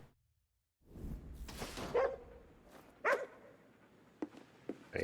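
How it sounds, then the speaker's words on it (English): A dog in the Ghostwire Tokyo video game gives a few scattered barks and yips after a brief silence, moderately loud against soft in-game ambience. "I hear a doggy."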